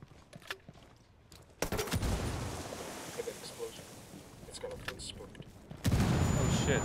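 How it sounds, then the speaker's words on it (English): Sustained bursts of enemy gunfire and heavy explosive blasts in the video game Ghost Recon Wildlands, loud and close, starting abruptly after quieter moments with talk, then surging again near the end. "They just shoot back at me."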